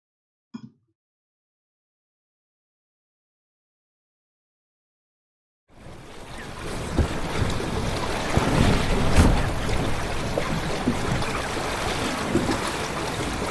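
After a brief knock and long silence, steady rushing of wind and water begins, waves splashing around a moving sailboat, loud and continuous.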